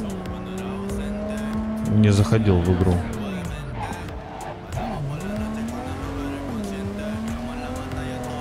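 Car engine in Cyberpunk 2077: a steady droning motor rises in revs, and a short burst of tire squeal and skidding sounds in the middle. Someone talks over it throughout.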